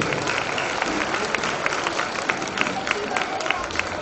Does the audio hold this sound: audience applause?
yes